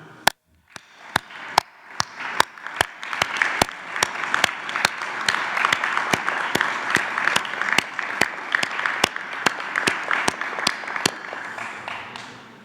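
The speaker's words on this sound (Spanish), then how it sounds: "Un aplauso." An audience at a press conference applauds in a sustained, even round, with a few sharp, loud claps standing out at regular intervals throughout.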